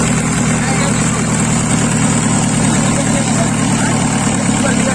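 A Mahindra Bolero engine idling steadily after a cold start, a loud continuous low rumble with a constant hum that holds unchanged throughout, with no voices over it.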